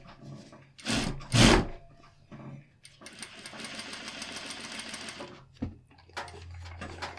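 A sewing machine runs understitching along fabric, a close mechanical whir in short runs with a louder burst near the start, pauses and a faint low hum, no voices.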